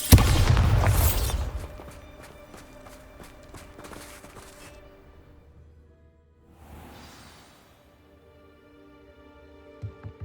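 A Bombarda blasting spell explodes in Hogwarts Legacy with a loud, booming burst at the start that quickly decays into a ringing tail, followed by quieter rumbles and faint steps.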